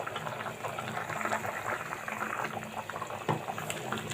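Buffalo shank curry bubbles and simmers in a pot, a soft, continuous burbling with faint clinks, heard from close by with no talking.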